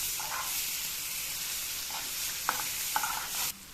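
Tomatoes with salt and spices being stirred in a pan, with a steady sizzle and hiss throughout and a few brief scraping clinks of the stirring utensil near the end.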